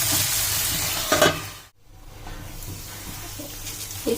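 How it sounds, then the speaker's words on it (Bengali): Chopped potatoes go into a pan of lightly browned frying onions, a loud broad sizzle that cuts out briefly and then settles into a steady, quieter frying hiss with a few small stirring knocks. "এখন দিয়ে দিব কেটে রাখা আলু, একটু লবণ দিয়ে ঢাকা দিয়ে দিব"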